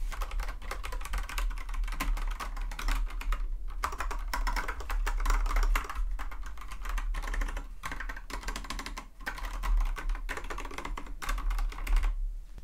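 Continuous rapid typing on a Kinesis Advantage360 Pro split, wireless mechanical keyboard, dense overlapping keystrokes close up with brief pauses, no speech.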